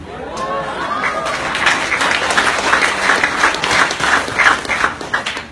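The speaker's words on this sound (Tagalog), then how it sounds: "Pumapalakpak ko yung mga members" An audience of members at a marketing presentation breaks into steady applause that swells and holds, dense clapping filling the room with a few voices mixed in.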